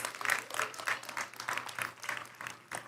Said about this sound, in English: Can we have another round of applause to our athletes and coaches?